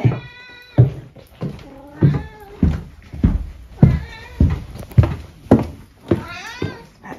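Domestic cat meowing repeatedly at close range, a series of about eight drawn-out, rising and falling meows in a steady rhythm, loud and clear with no talk over them.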